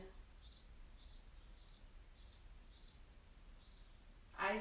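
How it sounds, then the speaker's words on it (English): Birds chirping outside a house, a faint series of short high tweets repeating at an even pace in a quiet room, ending with a brief louder sound nearby. "I hope that you can hear the birds that are chirping at my house."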